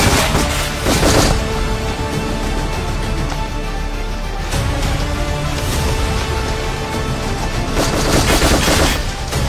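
Gunfire from an action film trailer: loud bursts of rapid automatic shots at the start and near the end, with a dense, continuous barrage of shooting in between.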